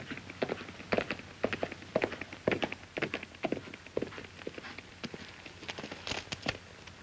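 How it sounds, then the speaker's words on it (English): Irregular clip-clop of a horse's hooves against a hard surface in a 1953 western film, a steady run of sharp knocks at moderate loudness with no voices. "I hear a horse coming."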